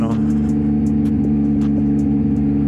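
Motorcycle exhaust on a night ride along Marilaque, a loud steady engine drone with rising revs and periodic pulses, recorded very close to the pipe.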